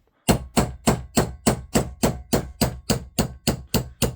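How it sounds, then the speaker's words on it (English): Heavy hammer blows strike metal in a steady, evenly spaced rhythm while hammering out an airsoft gun nozzle, about fourteen loud hits in a row with no talking. "I'd recommend getting a heavier hammer"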